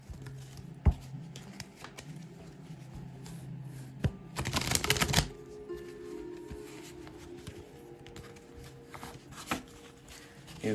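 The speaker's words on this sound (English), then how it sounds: "Give this handy dandy deck a good shuffle real quick" Quick riffling patter of tarot cards being shuffled, a brief dense burst in the middle amid quieter tapping and handling clicks, close by.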